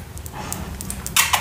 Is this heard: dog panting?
yes